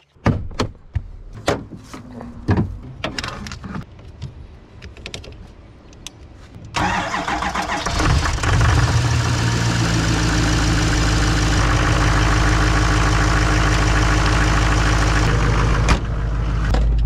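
Chevrolet Silverado Duramax diesel truck is jump-started with a portable jump box: a few clicks and knocks, then the engine cranks and catches, settling into a loud, steady diesel idle up close with no talking.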